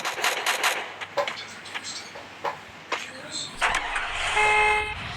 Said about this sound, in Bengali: হর্ন মেরে পালাই।